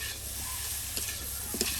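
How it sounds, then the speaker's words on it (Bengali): Potatoes fry in hot oil in a pan, giving a close, steady sizzle broken by a couple of brief stirring scrapes. "আলু গুলাই দিয়ে সুন্দর করে ভাজা ভাজা করে নিলাম।"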